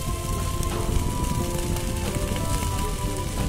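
A fire burns across a hillside on Kanjanagiri hill near Lalapettai, making a dense, steady crackling and hissing roar that fills the whole stretch without a break, close and fairly loud, with no voices.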